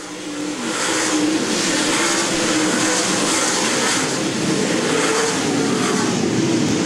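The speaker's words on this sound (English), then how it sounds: "Here comes Derek, the 4R car" USMTS modified race cars roar around Valley Speedway during an A Main feature, a dense, steady engine drone with rising and falling passes that holds loud and continuous from start to finish.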